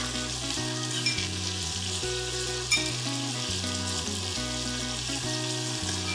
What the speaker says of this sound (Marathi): आता हे करूयात मिक्स आणि कांदा मस्त असा मऊ होईपर्यंत शिजवून घेऊ.